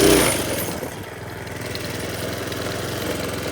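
A minibike engine at full throttle, a loud, steady, close buzzing drone that holds constant after a brief louder onset, with no voices.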